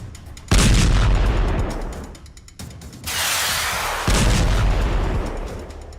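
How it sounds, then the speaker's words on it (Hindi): Three heavy drone-bomb explosions boom close by at the Fujairah oil site in the United Arab Emirates, each followed by a long rumbling decay, with the blasts spaced a few seconds apart. "धमाके ड्रोन बम के हैं।"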